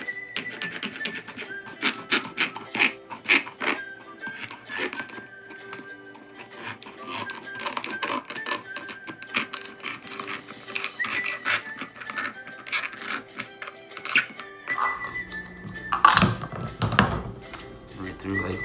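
A serrated bread knife saws through a plastic lid during a DIY live bait well build, with repeated scratchy, tapping strokes close up and someone talking at times.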